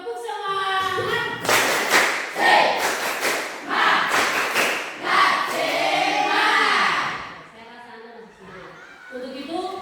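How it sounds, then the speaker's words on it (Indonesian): A classroom of students doing a rhythmic spirit clap together, bursts of sharp claps and thumps in a patterned beat, loud and close, mixed with children's voices and a teacher speaking. "Tepuk semangat."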